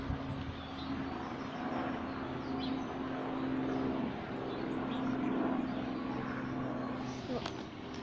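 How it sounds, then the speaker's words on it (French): A faint, steady engine drone from an airplane passing overhead hums in the distance, with soft garden background noise. "Il y a un avion qui va passer."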